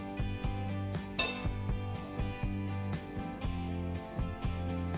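A spoon clinks and scrapes rhythmically against a bowl while bitter gourd is mixed with gram flour, a repeated metallic tapping and ringing close by, with no talking.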